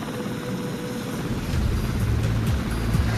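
A 10-ton rescue helicopter hovering over uneven, boggy terrain: a steady, loud rotor-and-engine roar with heavy wind noise, the low throb growing stronger partway through.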